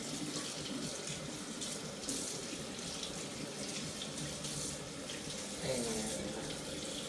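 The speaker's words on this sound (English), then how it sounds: "So I'm going to put a little cool water on it." Cool tap water runs steadily over roasted green chili peppers at a sink, a continuous splashing hiss that holds level throughout with a few brief louder gushes.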